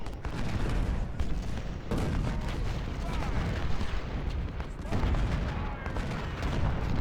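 Cannon artillery fire from a Civil War battle at Washington D.C. in the Ultimate General: Civil War strategy game, a dense, continuous rumble of overlapping booms and volleys with surges at intervals.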